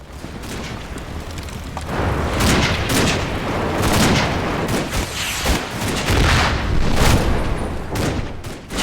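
Direct fire support during a river-crossing assault in the Combat Mission: Red Thunder war game, a dense sustained barrage of gunfire and booming blasts rolling on without pause.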